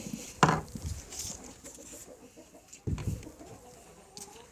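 Chickens in a coop give a few close, sharp clucks and squawks, with two louder calls and quieter rustling between them.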